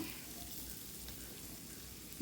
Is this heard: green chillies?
yes